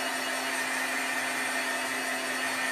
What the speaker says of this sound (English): I'm going to dry this. This is just a dryer that I've had for a long time.